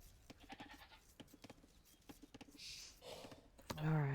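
Goats bleating in the video game Age of Empires 2, a short cluster of bleats near the end following clicky keyboard and mouse tapping, with a player speaking quietly.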